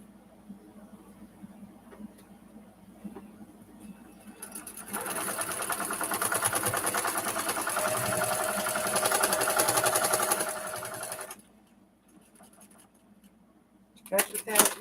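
Sewing machine quilting a Summer Moon quilt, starting after a quiet stretch with a loud steady whirring run of about six seconds, then stopping abruptly, followed by a brief clatter at the end.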